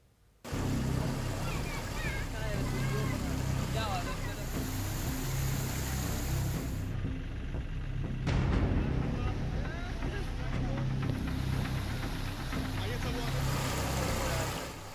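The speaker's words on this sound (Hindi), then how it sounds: "सड़क पर महानंदा नदी की तूफानी धारा बह रही है।" Floodwater from the Mahananda River rushing across a road in Bihar, a loud continuous roar and wash of water with heavy wind buffeting, steady throughout after a brief quiet start, with a voice partly audible under the noise.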